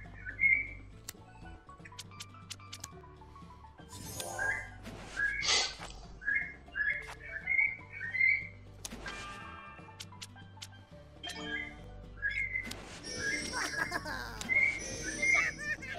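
Bird chirp sound effect from the UNO Flip video game: short, bright whistled tweets repeat in scattered bursts over quiet game clicks and a low hum.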